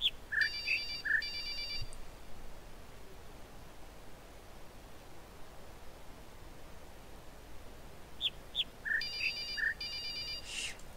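A mobile phone rings in two bursts of a repeating electronic tone, one at the start and one near the end, over a steady hiss of background noise.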